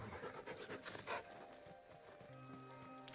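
Dog in Final Fantasy 16 panting in quick, rhythmic breaths, close and fairly soft over a steady game ambience, with faint footstep-like thumps mixed in.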